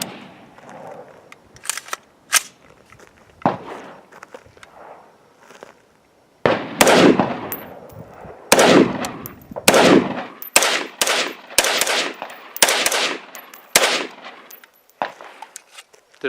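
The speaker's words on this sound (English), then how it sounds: "here's Luke shooting the AeroPrecision lower mounted on the Springfield Saint upper" AR-15 rifle with an AeroPrecision ambidextrous lower and Springfield Saint upper firing at a range: a string of loud, sharp gunshots, sparse at first, then a rapid, uneven volley with echoing tails, and no talking.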